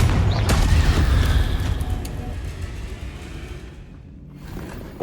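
Confringo spell cast in Hogwarts Legacy, a loud single booming blast with heavy low rumble that slowly fades over several seconds.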